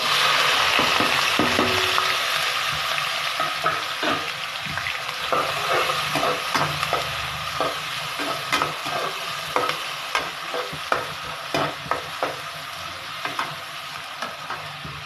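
Onions with ginger and garlic frying in a pan for an aloo baingan sabzi, a steady close sizzle punctuated by regular scraping taps of stirring that grow more distinct toward the end.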